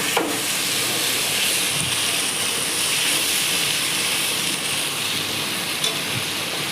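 Potatoes, beans, peas and carrots sautéing with chicken in a pan give a steady, dense sizzle and hiss that runs evenly throughout, close and fairly loud, with no talk.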